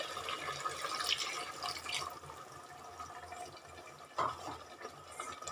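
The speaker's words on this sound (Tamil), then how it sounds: "1 டம்ளர் தண்ணி சேர்த்துடலாம்." Water poured into a mixer jar to rinse it out while making a chicken gravy in a home kitchen, heard as a soft, steady splashing fill with a brief louder slosh near the end, no talking.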